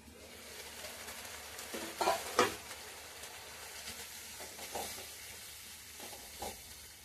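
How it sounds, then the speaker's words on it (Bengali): Spice masala for methi malai matar sautéing in a pan, giving a soft, continuous sizzle broken by a few scraping stirs, close but quiet, with no talking. "এখন ভালো করে সুন্দর করে মশলাটাকে কষে নেব।"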